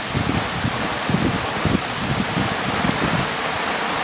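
Heavy rain pours across a farm plantation in a storm with wind, a dense, loud, continuous hiss of drops on leaves and ground with no voices.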